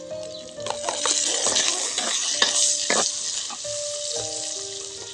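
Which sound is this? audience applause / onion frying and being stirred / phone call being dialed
onion frying and being stirred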